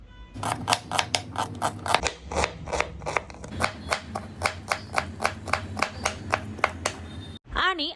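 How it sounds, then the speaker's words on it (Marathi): A knife chops two large washed and peeled onions finely on a board for medu vada, giving a steady run of about twenty sharp, close taps at an even, brisk rhythm with no talk. "दोन मोठे आकाराचे कांदे स्वच्छ धुवून सोलून त्याचे बारीक बारीक असे तुकडे करून घ्यायचे आहेत"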